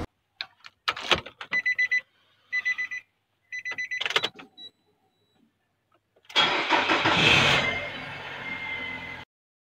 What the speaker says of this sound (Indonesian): nah ini adalah motor ABS